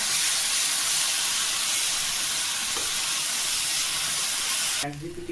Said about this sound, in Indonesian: Ini aku tumis bawang putih untuk togenya dulu ya